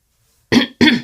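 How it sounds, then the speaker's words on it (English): Two sharp, loud coughs in quick succession from a nearby adult, close to the microphone, each burst brief and separated by a short pause, following near silence. "Sorry about the cough."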